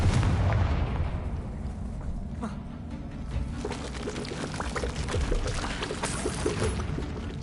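Confringo and Incendio spell blasts in Hogwarts Legacy on PS5, dense fiery bursts and rumbling booms layered over a continuous roaring, crackling game soundscape.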